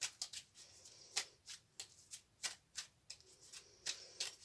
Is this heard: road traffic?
no